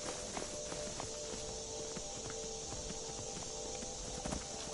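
A horse's hooves clip-clop steadily in Skyrim, a rapid, faint trot beneath a constant wash of ambient game noise.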